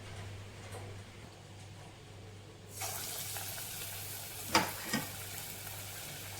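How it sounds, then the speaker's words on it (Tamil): Small pieces of snack dough drop into hot oil and start frying, a bright sizzle rising suddenly partway through, with a few sharp splashes, over a low steady hum. "வாங்க, எண்ணெய் காஞ்சிட்ருக்கு, போடலாம்."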